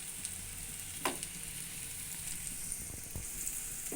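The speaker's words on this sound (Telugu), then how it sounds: "ఉల్లిపాయలు కూడా వేగుతున్నాయి ఎర్రగా" Onions fry in oil as a tempering base for chicken curry, giving a quiet, continuous hiss with a few soft stirring clicks and taps, and no voices.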